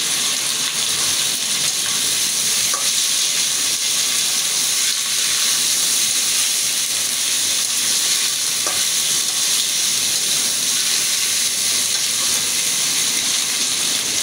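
Ground cumin paste fries in hot oil with a steady, close sizzle and hiss for about fourteen seconds, while a spoon stirs it now and then with soft scraping.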